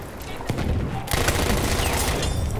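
An Annihilator machine gun in Battlefield 1 fires on the Amiens map, a dense, loud, rapid stream of gunfire that swells after a couple of opening shots and continues without pause.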